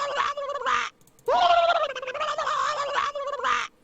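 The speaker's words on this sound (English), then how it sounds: "That's Mario being shocked by something." Cartoonish voiced sound effect of Mario being shocked in a Mario video game, a squawking, gobbling cry in two loud bursts separated by a short gap, no talk.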